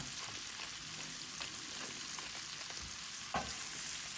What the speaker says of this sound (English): that beef's going to be stir-fried in the pan until it's nice and brown